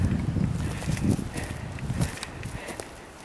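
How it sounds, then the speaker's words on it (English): Wind gusting on an exposed mountain trail at the first switchbacks climbing toward Aztec Peak, a low rumbling buffet that surges in the first two seconds and then eases off, with faint crunching steps mixed in. "And a little gust there."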